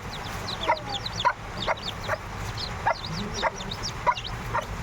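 A hen clucks softly among her newly hatched chicks, whose rapid high peeping chirps repeat steadily throughout, close by with no talk.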